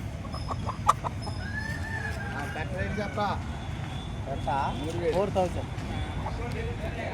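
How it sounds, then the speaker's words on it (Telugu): Chickens and roosters cluck and call throughout a busy village hen market, with several overlapping bird calls amid steady crowd noise and people talking. "సంత చాలా పెద్దగా ఉంటుంది చాలా కూళ్ళు వస్తూ ఉంటాయి"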